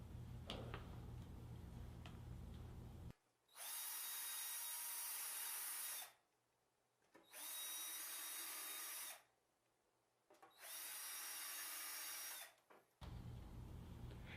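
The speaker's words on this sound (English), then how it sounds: "Now use your Vicks bit to pre-drill your screw holes." Three bursts of a power drill with a Vix self-centering bit spinning up and pre-drilling screw holes in a cabinet for drawer slides, each about two to three seconds long, separated by short pauses.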